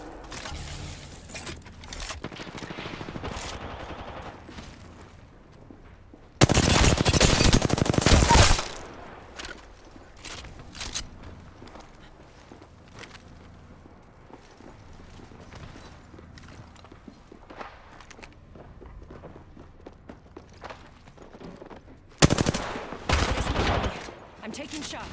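R-301 rifle fire in a video game comes in two loud sustained bursts, one around the middle and one near the end, separated by quieter game sounds.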